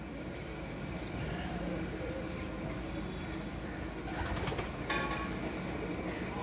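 Pigeons of a red-eyed breed coo softly against a steady background hum, with a brief flutter near the end.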